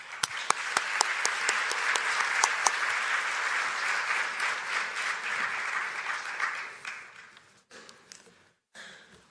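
An audience at a university College of Engineering graduate commencement applauds the faculty and staff, opening with a few sharp claps that swell into sustained, dense applause before thinning out near the end, with no speech over it.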